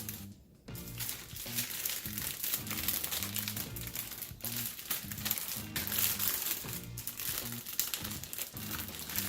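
Tri-tip steaks are worked into a plastic bag with continuous close crinkling and rustling of plastic. Constant crackle runs throughout at a moderate level.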